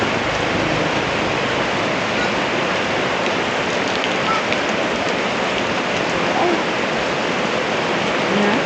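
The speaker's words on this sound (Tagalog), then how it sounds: "So, grabe ang lakas ng ulan. Biglang lumakas ng ulan." Heavy, steady rain pours down in a dense, continuous roar, loud and unbroken throughout.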